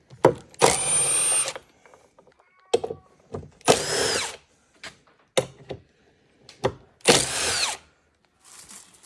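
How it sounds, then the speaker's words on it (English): A power drill backing out hex screws on a 2021 CFMOTO 600 Touring four-wheeler, running in three long whirring bursts with short clicks and clattering handling noises between them. "We're going to remove the hex screws from the opposite side"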